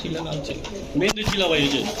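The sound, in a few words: Giribaz high-flyer pigeons cooing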